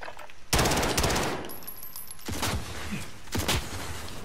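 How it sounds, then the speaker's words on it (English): Rapid bursts of automatic M4 rifle fire from the video game Call of Duty: Modern Warfare, three loud volleys in quick succession with short gaps between them. "the clip in the M4 that we have in it right now makes the gun shoot quicker"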